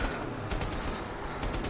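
Sustained gunfire in the VR shooter Bravo Team on PSVR, a dense, steady wash of shots with a few sharper cracks standing out, loud and continuous throughout.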